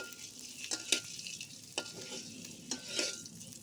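Egg frying in a pan over medium-high heat: a soft sizzle broken by several sharp scrapes and stirs of a utensil, quiet and close, with no one talking.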